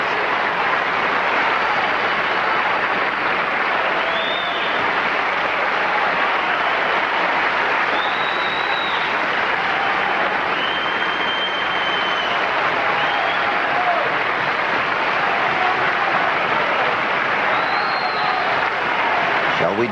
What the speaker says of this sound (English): close-up, rhythmic applauding hands.